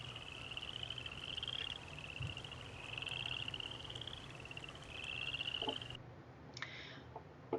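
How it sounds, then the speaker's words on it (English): A dense chorus of boreal chorus frogs trilling in repeated rising pulses, steady and overlapping, with faint insect-like ticks in the background. "when all the boys are back in town, it sounds a little bit like this."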